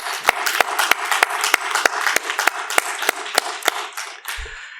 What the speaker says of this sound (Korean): 감사와 존경의 박수로 격려하길 원합니다